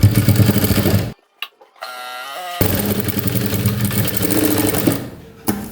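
A sewing machine top-stitches a baby cap for a 3 to 12 month old. The motor runs loud and steady, drops out for about a second and a half with a faint tonal whir, then resumes for a long continuous run before stopping.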